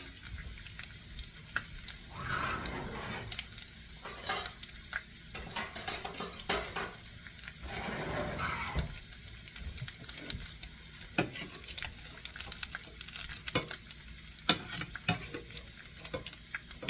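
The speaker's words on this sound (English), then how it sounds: "That's why I'm stirring it around, make sure it doesn't burn too much." Liver and bacon sizzle steadily in a pan while a spoon stirs and scrapes against the metal, with faint clinks scattered over a low continuous fry, quiet and without voices.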